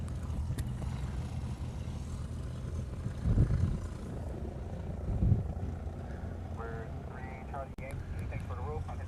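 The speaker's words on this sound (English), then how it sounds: "Looked to be a Civil Air Patrol plane" A Civil Air Patrol plane arrives at night at Honolulu's Daniel K. Inouye International Airport, its engine a low, steady drone that swells twice, with faint crowd murmur in the background.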